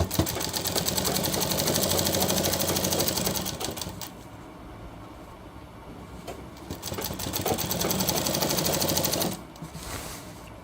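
A sewing machine stitching a single-fold hem on a shirt, running in two long steady bursts of rapid, even mechanical chatter separated by a quieter pause, close and fairly loud, with no voices.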